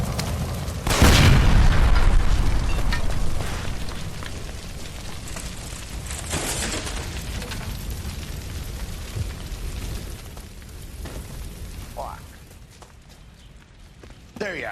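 A gas line beside a stove bursts in L.A. Noire with one loud booming blast early on, followed by rumbling debris, footsteps and softer crashes while voices speak.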